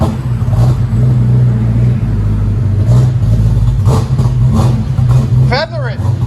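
A Lexus SC 400 4.0L V8 with a modified exhaust and a throttle body fault idles roughly and revs in short, uneven bursts, a deep loud rumble close by.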